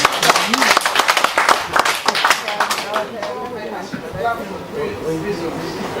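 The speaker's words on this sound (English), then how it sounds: "I am going to request you to clap" An audience at an African Traditional Medicine Day celebration claps on request, a loud burst of applause that fades into murmuring chatter and voices.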